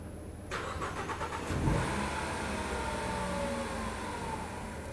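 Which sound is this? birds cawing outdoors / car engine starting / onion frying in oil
car engine starting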